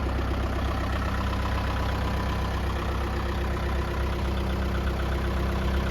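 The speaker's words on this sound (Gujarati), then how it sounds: "ટ્રેક્ટરનો તમે અવાજ જોઈ શકો છો એકદમ સાયલેન્ટલી" A 45-horsepower four-wheel-drive tractor with power steering, about 785 hours and in fresh condition, idles with a steady, even engine rumble, continuous and close throughout.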